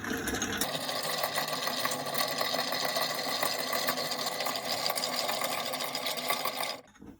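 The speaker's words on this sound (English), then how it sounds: "So I've got some ice. Take our mixing spoon and mix for about 20 seconds." Ice is stirred with a mixing spoon in a glass for a Sazerac cocktail, making a steady, close, continuous clattering and rattling that runs about seven seconds before stopping abruptly.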